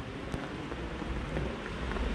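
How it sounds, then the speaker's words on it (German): Steady rain falls continuously, a dense even hiss of drops on surfaces with occasional louder patters, moderately close and with no voices. "Oh mein Gott, Regen."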